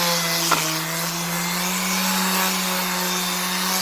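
Steady grinding whir of a power tool scouring the remaining rust off a metal railplate, a continuous close buzz with one brief scrape near the start, running unbroken.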